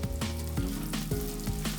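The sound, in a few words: green chilies and onions sautéing in a pan for fish curry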